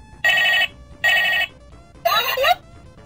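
A bootleg Dragon Ball Z Goku toy phone plays three loud, shrill electronic ring bursts, each about half a second long with short pauses, the last one warbling, heard close up.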